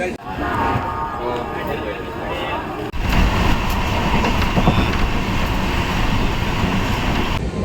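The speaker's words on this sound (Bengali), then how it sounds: "একদম ডট আটটা পঞ্চান্নতে আমাদের গাড়িটা ছেড়ে দিল হাওড়া স্টেশন থেকে" Interior of an express train pulling out of Howrah station, with a steady rumbling roar of wheels and carriage that grows louder after a brief dip about a third of the way through, continuing unbroken to the end.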